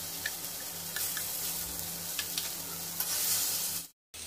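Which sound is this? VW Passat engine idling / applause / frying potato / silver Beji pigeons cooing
frying potato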